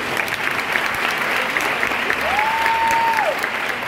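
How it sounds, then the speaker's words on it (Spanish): Steady applause from an audience at a secondary school graduation ceremony, a continuous wash of clapping with a brief whistle or voice tone rising over it midway. "Un aplauso."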